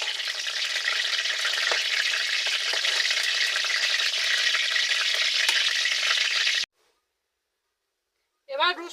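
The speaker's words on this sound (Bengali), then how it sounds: "পেঁয়াজ বাটা করার জন্য প্রথমে আমি পেঁয়াজটাকে লাল লাল করে ভেজে" Onions frying in a pan until reddish-brown for onion paste, a loud steady sizzle with a few faint clicks that cuts off abruptly, followed by silence and then a brief voice.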